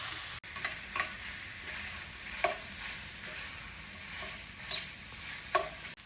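Chopped onion browning in a pan gives a soft, steady sizzle, with faint spatula clicks and stirring ticks coming at irregular intervals.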